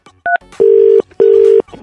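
Telephone keypad dialing tones: a short dual-tone beep followed by two longer steady tones, loud and close, with brief gaps between them and no voices.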